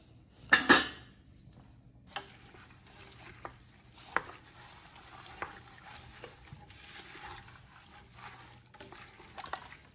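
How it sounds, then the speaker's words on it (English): Pots, cutlery and a spoon clattering during the cooking of canned pepper relish, with a sharp metallic clang near the start and then scattered lighter clinks and knocks spread across a quiet background. "Let me get a spoon."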